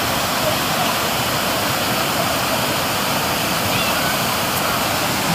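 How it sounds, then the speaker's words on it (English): Cool water pours off a cliff into a lake at a swimming area near Albufera de Anna, Spain, a steady, loud broadband rush that holds constant without pause, with no talk over it. "cool, refreshing water coming off the cliff there."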